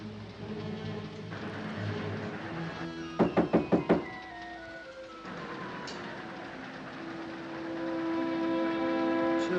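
Five sharp, quick knocks strike a door in a 1946 mystery film, standing out loud and close above a steady low rumble like a moving train.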